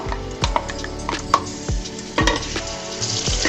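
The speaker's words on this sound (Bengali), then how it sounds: "ব্লেন্ডারটা দিয়ে আমি মশলাগুলো দিয়ে দিলাম, দিয়ে মশলাগুলোকে কাঁচা গন্ধ যাওয়া পর্যন্ত কিন্তু ভেজে নিতে হবে" Blended spice paste fries in oil for a Chittagong-style mezban beef and radish curry, a steady sizzle broken by repeated scraping stirs of a spoon in the pan, close and fairly loud with no talk.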